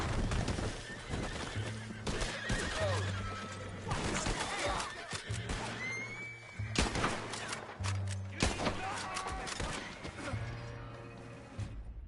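A horse neighs and whinnies repeatedly in Red Dead Redemption 2 gameplay, over a busy, loud mix of clip-clopping hooves and sharp crashes, with a low droning tone underneath.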